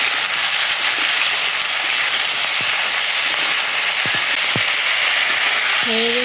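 Spiced cauliflower curry with salt and turmeric sautés in a pan with a loud, steady hiss and occasional clicks from stirring, and a voice briefly cuts in at the end.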